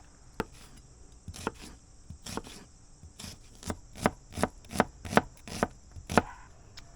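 Onion diced with a knife on a cutting board for fish tacos, a run of crisp, evenly spaced chops that start sparse and settle into a steady rhythm, close and clear with no talking.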